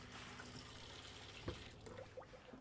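Hot water runs from the kitchen tap of a Bailey Autograph 79-4 motorhome, a soft steady trickle and splash with faint hum, fairly quiet and close.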